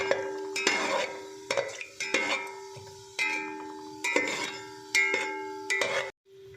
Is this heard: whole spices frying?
yes